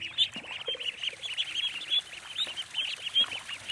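Flock of domestic ducks loose in flooded rice paddies in Bali, giving steady overlapping quacks and chirping calls at moderate distance over soft outdoor background.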